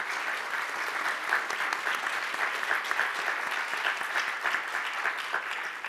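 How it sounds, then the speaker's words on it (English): Steady audience applause for the panelists at an online safety conference, a dense, even wash of many hands clapping that continues throughout without anyone speaking. "we could give our panelists a big round of applause"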